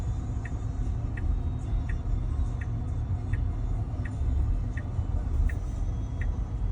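A Tesla steering itself into a parking spot among other cars gives off a low, steady cabin rumble, with a soft, evenly spaced ticking like a turn indicator running throughout.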